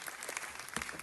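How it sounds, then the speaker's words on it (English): An audience claps through a brief burst of applause at an Italian American heritage event, with a dense, even patter heard from a moderate distance. "give them a round of applause"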